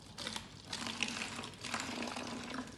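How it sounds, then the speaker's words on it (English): Water runs into a bottle during a toddler's color-learning play, a short continuous pouring and splashing sound heard close and fairly quiet, without talking. "So we are going to be filling"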